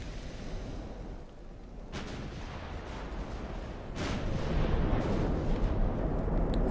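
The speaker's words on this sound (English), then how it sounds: "every one of my ships is firing on him right now" Warship guns fire in the naval battle game Ultimate Admiral: Dreadnoughts, with two sharp cannon blasts a couple of seconds apart over a dense, rumbling battle din that swells louder toward the end.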